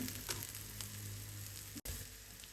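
Green chillies frying in a pan for prawn curry, a quiet continuous sizzle with light crackles, briefly cut off near the end, no talking.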